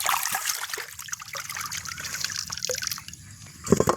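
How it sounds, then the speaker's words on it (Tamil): Water trickles and gurgles continuously close by in a stream running beside a house toward the fields, with small splashes and drips, ending in a brief louder splash. "எங்களோட வீட்டுக்கு பக்கத்தாலே இந்த தண்ணியும் ஓடுது"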